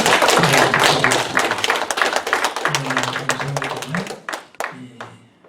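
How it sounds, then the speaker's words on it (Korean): Congregation of a Korean church clapping in thanksgiving at a gathering in Orange County, sharp dense hand claps that thin out and fade toward the end, with a low voice murmuring beneath. "감사의 박수, 영광의 박수입니다."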